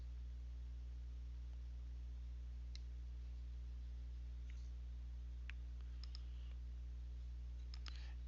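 Mouse clicks while working in LibreOffice: a handful of faint, sparse single clicks scattered irregularly over a steady low electrical hum, with no talking.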